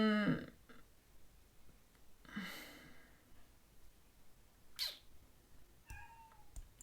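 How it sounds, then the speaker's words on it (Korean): Pet cats meow indoors at home, a couple of faint, brief calls scattered through a quiet room with soft background noise and occasional clicks. "이제 딸들이 학원을 가니까 우리 고양이들이 시작을 했습니다"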